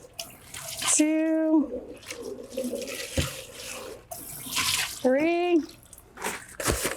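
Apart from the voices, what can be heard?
rinsing a washcloth in water three times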